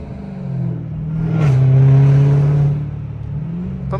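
A Dodge Hellcat running with its air intake removed makes a loud, close engine roar that swells through a downshift and settles back, the rev rising and falling smoothly over a few seconds.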